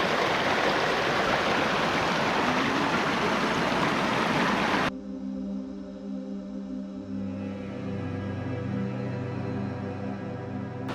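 A small snowmelt waterfall pours into a creek near Melakwa Lake, a loud steady rushing roar for about five seconds before it cuts to a quieter scene with a lingering low tone.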